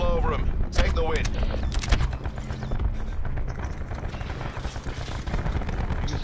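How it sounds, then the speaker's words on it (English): Rapid gunfire from the video game Call of Duty: Black Ops 4, with dense bursts and sharp shots clustered early, then steady battle noise and loud game sounds continuing throughout. "You can stop shooting."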